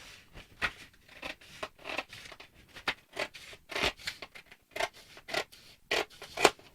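Scissors cut through drafting pattern paper for a pencil skirt in a quick series of crisp snips and slices, close and clear with no talking.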